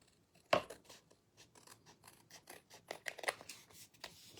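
Scissors trimming the edges of a paper card, starting with one sharp snip and followed by a string of quieter, uneven cuts and rustles close to the mic.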